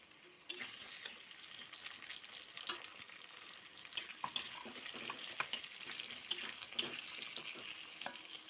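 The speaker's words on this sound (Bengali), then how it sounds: "আর আগে একটু আমি এই টমেটোটা দিয়ে দেবো।" Tomato going into a pan of fried potatoes, with pointed gourd and prawns to follow, sizzles steadily with sharp crackles and the scrape of stirring, close and continuous, with no talking.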